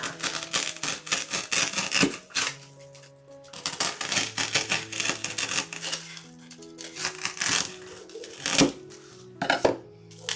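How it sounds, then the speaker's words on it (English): A paint scraper works through a foam ball to cut it in half, giving irregular scraping, crunching bursts separated by short pauses, fairly close and moderately quiet. "I like to use a paint scraper. So I'm going to put it in and just kind of work my way through and cut the ball in half"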